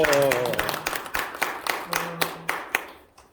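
A Korean church congregation applauds a pastor at a prayer meeting: a voice speaks briefly at the start, then sharp, spaced hand claps ring out in an uneven rhythm and thin out toward the end.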